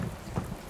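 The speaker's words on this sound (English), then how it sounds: "Thunder." Thunder rolls in the video game A Space for the Unbound, a low, faint rumble mixed with steady rain-like hiss across a brief moment.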